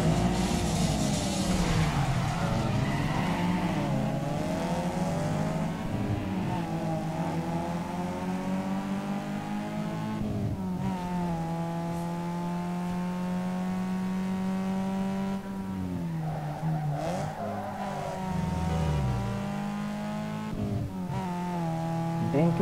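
Race cars in a Need for Speed Underground 2 circuit race, engines droning and revving continuously with rising and falling pitch, occasional tire squeal, loud throughout with faint talk underneath.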